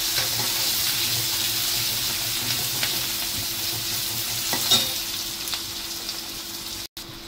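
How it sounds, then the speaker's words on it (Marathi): Tomatoes sautéing in a pan, with a constant moderate sizzle and occasional stirring clicks, ending with a sharp knock. "इथे आपला हा टोमॅटो गुलाबी रंगावर परतून घ्यायचा"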